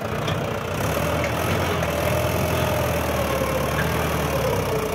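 A Mahindra 575 XP Plus tractor engine labors under a load, giving a steady, dense drone. The sound stays constant and loud throughout with no talk.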